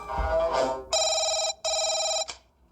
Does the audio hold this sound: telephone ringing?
yes